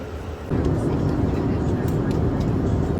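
Steady, loud airplane cabin roar during flight that swells and holds from about half a second onward, broadband and constant with no breaks.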